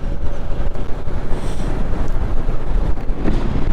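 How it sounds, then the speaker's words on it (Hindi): Strong, gusty wind buffeting a microphone on a motorbike ride beside a river in winter Spiti, a loud, rough rumbling blast with rapid surges, alone with no talking. "यहाँ पे विंड ब्लास्ट बहुत ज़्यादा है"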